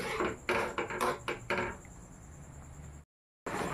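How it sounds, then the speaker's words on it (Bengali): Chhanar payesh stirred in a pan as it boils. A utensil clinks and scrapes against the pan in quick irregular strokes, then the sound fades to a quiet hiss and cuts off briefly. "এবার এটা কিছুক্ষণ ধরে আমি নেড়ে চেড়ে ফুটিয়ে নেব"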